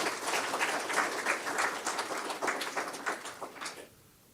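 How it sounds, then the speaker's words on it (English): An audience claps for award recipients at a ceremony, a dense round of applause with scattered louder claps that holds steady and then fades out near the end, no voices on top. "let's give all our awardees a round of applause."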